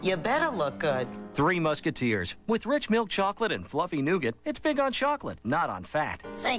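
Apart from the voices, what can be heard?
No everyday noises stand out.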